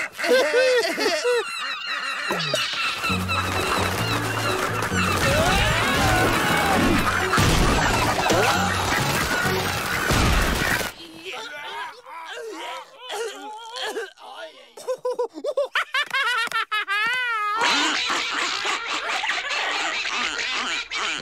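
Cartoon ducks and geese in the French animated series Les Dalton honk and quack loudly in rapid bursts, amid a busy mix of crashes and music, followed by sparser squawks and swooping squeals.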